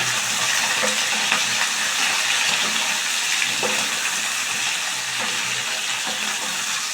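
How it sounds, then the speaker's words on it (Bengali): Pumpkin and potato pieces fry in an uncovered pan, a steady broadband sizzle running throughout with scattered clinks and scrapes as the vegetables are stirred, close and fairly loud with no talking. "ঢাকাটা খুলে আবার একটু আমি মিশিয়ে দিচ্ছি"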